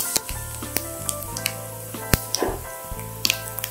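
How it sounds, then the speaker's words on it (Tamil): Crackling sizzle of fennel seeds frying in hot oil, with scattered sharp pops and ticks over a low steady hum. "நம்ம 1 டேபிள்ஸ்பூன் அளவுக்கு சோம்பு தாளிக்கிறதுக்கு"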